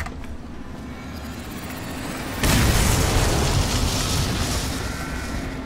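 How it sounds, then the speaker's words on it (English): A bomb blows up in the stealth video game Dishonored, a sudden loud boom that bursts into a broad, sustained roar of rumbling debris and fades slowly. "Explosion!"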